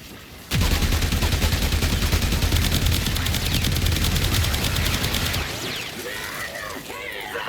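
Weapon fire in the Warframe video game, aimed at the floor: a loud, rapid, sustained burst of gunfire runs for about five seconds, then cuts off into quieter mechanical game sounds.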